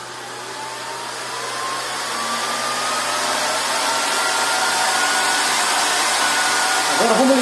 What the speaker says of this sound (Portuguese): sempre vocês precisam ligar a ventoinha primeiro